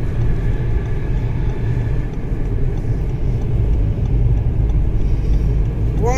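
Heavy Scania truck rolling past near a bridge, a loud continuous low engine rumble and road roar that holds steady throughout, with a faint rising tone near the end.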